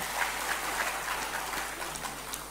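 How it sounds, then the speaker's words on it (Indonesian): An audience at an Indonesian community gathering applauds, a soft, steady patter of clapping heard from a distance with no talking. "Tepuk tangan untuk Bapak Ibu semua."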